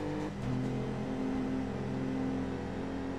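A car drifting in the PS1 racing game Need for Speed, a steady droning engine tone with a sustained whine holding through, constant and close with no talk.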